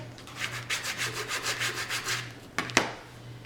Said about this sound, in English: And just burnish that a little bit